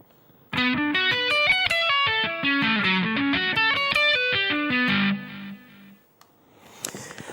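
Fast, distorted electric guitar sweep-picked arpeggios, four played back to back, sweep up and down continuously for about five seconds, then stop and leave a faint noise.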